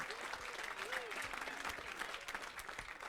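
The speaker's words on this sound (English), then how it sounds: "Massive round of applause." Guests at a speech give a sustained round of applause, dense steady clapping from a roomful of people that fills the space, with a voice faintly heard beneath it.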